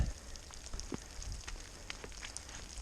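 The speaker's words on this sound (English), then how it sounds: "It looks like it's practically raining here. So much melt." Steady patter of melting snow dripping around, like light rain, with scattered sharper drips close by and a constant soft hiss underneath, in Tehachapi Mountain Park.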